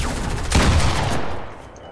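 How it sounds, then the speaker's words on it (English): Rapid automatic gunfire in an online shooter video game match, a loud close volley of overlapping shots that swells mid-way then fades out, with no speech over it. "I'm getting shot in the back."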